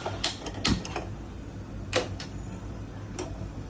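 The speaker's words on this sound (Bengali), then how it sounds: "গ্যাসটা জ্বালিয়ে নিচ্ছি।" A gas stove igniter clicks in a home kitchen as a burner is lit for cooking okra, giving a few sharp, separate ticks at an uneven pace over a quiet background.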